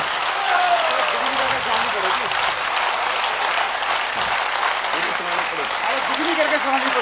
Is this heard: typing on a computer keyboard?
no